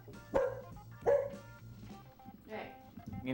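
A pet dog gives two sharp barks close by, followed by softer yips and whimpers, with people talking in the background.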